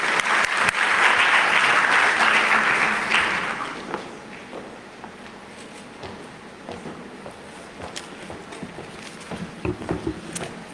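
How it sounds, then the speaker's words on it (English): Audience applause at an investment conference in Botswana, a dense burst of clapping that swells loudly for about four seconds before thinning into scattered claps and faint room noise. "Ladies and gentlemen, a round of applause,"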